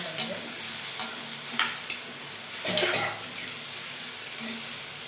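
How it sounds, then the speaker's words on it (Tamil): Brinjal and green gram stir-fry sauté in a pan on the stove, a soft sizzle under several distinct metallic scrapes and taps of a spatula, fairly quiet and close, without talk. "அடுப்பில் இப்போ நல்லா வதக்கிக்கலாம்."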